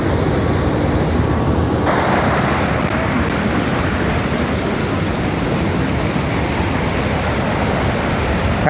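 Water pours out through the Bhabodah sluice gate in a loud, steady roar of rushing flow that stays constant and close throughout, with no voices heard.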